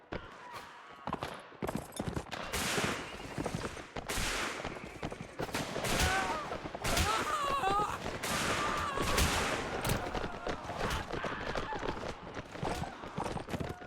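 Musket volleys crack repeatedly in a Mount & Blade Warband American Civil War battle, loud dense bursts of gunfire mixed with hoofbeats and shouting over roughly fourteen seconds.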